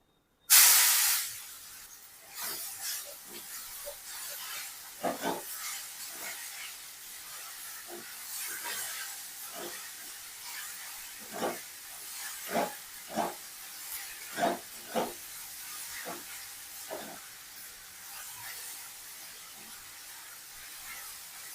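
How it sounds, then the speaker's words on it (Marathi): Mango pieces go into a pan of roasted spices, setting off a soft continuous sizzle and hiss with scattered crackles and spits through the cooking. "तर आता याच्यामध्ये टाकायचा आहे आंबा।"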